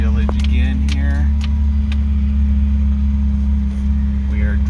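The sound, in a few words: car driving through a mountain village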